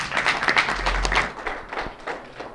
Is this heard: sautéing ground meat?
no